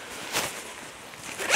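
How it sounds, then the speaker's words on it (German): A YKK waterproof zipper on an Exped Ultra -5 sleeping bag being pulled open, a close, quiet rasping run of teeth with a brief louder pull near the start and another stronger zip at the end. "Hier ein YKK wasserdichter Reißverschluss. Ihr könnt das bis weit unten aufmachen."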